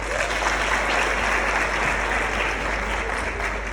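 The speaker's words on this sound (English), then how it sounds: "Let us give Kim a round of applause." A large audience at a live entrepreneurship event claps steadily and loudly for several seconds, a dense even roar of hands with no break.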